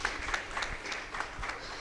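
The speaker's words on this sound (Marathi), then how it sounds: "मला वाटतं आपण त्यांच्यासाठी जोरदार टाळ्या वाजवू." Applause from an audience at an award ceremony, a brief spell of soft, dense clapping from many hands, heard at a distance and fairly faint.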